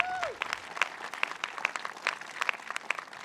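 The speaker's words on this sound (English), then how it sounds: "Let's give them a round of applause" Applause from an audience at a job training center event in Buffalo, a steady wash of many hands clapping with scattered sharper claps, moderately loud and sustained for a few seconds, briefly overlapping the tail of a voice at the start.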